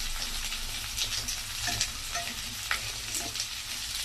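Pumpkin pieces sizzle in a hot pan while being stirred, with steady frying crackle and occasional scraping clicks, close and moderately quiet.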